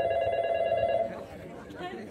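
A telephone rings with a bright, steady electronic tone for about a second, then fades as people talk in the background.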